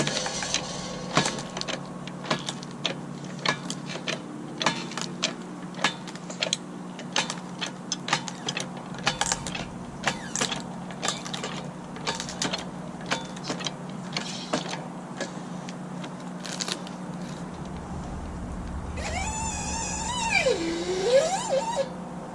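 A Harbor Freight manual wood splitter working through a log, with ratcheting clicks, creaks and mechanical knocks repeated steadily at close range, then a brief rising squeak and hum near the end.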